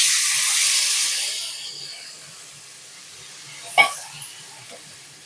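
Tamarind extract poured into a hot pan while cooking tamarind rice, giving a loud hiss and sizzle that slowly fades to a softer simmer, followed by a short splash-like burst near the end.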